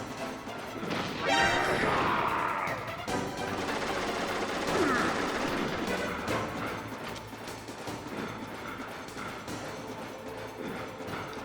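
Loud bursts of gunfire in Metal Gear Solid on PS1 crash and rattle over several seconds, with chaotic impacts and lingering background noise throughout.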